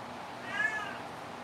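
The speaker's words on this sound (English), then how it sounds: "Sierra is meowing in the back." A house cat meows once, soft and distant in the background, a brief drawn-out cry over steady room noise.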